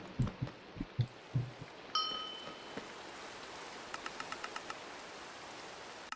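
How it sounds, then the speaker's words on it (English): Rain patters softly and steadily in the Minecraft video game, a faint wash under a few soft thumps at the start and a quick run of small in-game chimes and ticks later on. "It can stop raining anytime now."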